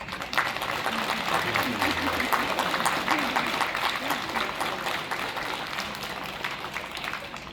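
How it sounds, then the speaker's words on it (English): An audience at an elementary school Christmas recital claps steadily in sustained applause, a dense even patter of many hands filling the room, with voices faintly mixed in. "So you need to give them a round of applause."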